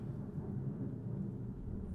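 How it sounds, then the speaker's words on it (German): A thunderstorm rumbles outside in a low, continuous roll, heard steadily through the full two seconds with no speech. "volles Gewitter draußen, ey"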